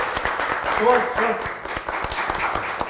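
Small studio group clapping together on cue, a short burst of applause running under cheerful talk and laughter from several people.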